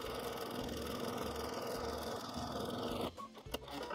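A sewing machine runs steadily while free-motion quilting a spiral in the centre of an appliqué flower: a close, continuous motor whir with a rapid stitching rhythm, then a short stop and clicks near the end, with no talk.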